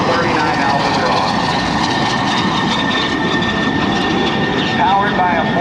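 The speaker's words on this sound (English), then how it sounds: "You look right down on that beautiful L-39 Albatros." An L-39 Albatros jet with a turbofan engine banks overhead at an airshow at NAS Oceana, producing a loud, unbroken roar that fills the whole stretch.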